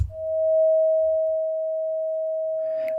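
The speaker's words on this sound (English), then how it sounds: "we hear that there's a fade in from the attack, and then a fade down from the decay, and then it sustained at the sustain level" Pure synthesizer sine tone from an ADSR envelope module swells in on the attack, dips during the decay, then holds steady at the sustain level before cutting off, heard alone.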